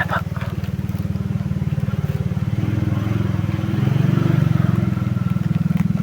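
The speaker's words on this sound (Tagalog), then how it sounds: "May motor dumaan mga tol eh." A motorcycle engine passes nearby on a road, a steady low putter that swells slightly midway and then eases, loud against faint background noise with no talk.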